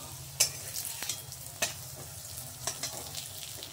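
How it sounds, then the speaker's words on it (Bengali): A potato-stuffed paratha cooking in a pan, a soft low sizzle under a handful of sharp scrapes and taps from a spatula, fairly quiet, with no voices. "আমি পরোটাটা এবার ভাজবো"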